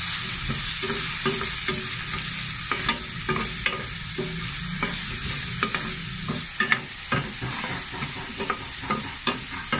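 Onion and ginger sautéing together in a pan for ginataang sigarilyas at kalabasa, a close crackling sizzle broken by repeated spatula scrapes and clanks against the pan, with no one speaking.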